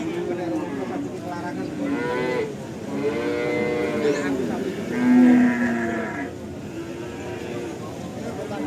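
Cattle at an Indonesian cattle market, including Limousin stock, low drawn-out moos rising and falling in several calls, close and loud, with market chatter faintly underneath.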